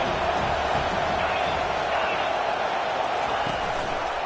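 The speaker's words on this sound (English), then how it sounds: "Decibels rising as the crowd gets behind this defense on third down" Football stadium crowd at an Oklahoma vs TCU game roaring steadily and building on a third-down defensive stand, a dense continuous wall of crowd noise with faint cheering throughout.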